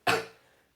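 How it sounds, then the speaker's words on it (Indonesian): A single sharp cough, close and fairly loud, fading quickly with no talking around it. "agak sedikit batuk ini"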